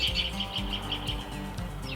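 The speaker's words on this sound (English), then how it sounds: "Birds are a chirpin'." Birds chirp outdoors in a steady series of bright, repeated tweets over a low background rumble, moderately near and without speech.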